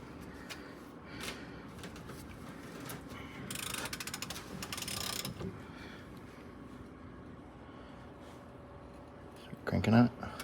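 A kingpin press is cranked by hand on the overweight axle of an Eagle bus, giving ratcheting mechanical clicks and metallic scrapes, with a louder burst of grinding near the end and people talking throughout.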